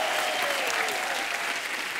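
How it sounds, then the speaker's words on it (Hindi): Steady, dense applause from a large crowd at a televised comedy show, continuous and even throughout with no gaps. "एक बार जोरदार तालियां हो जाए"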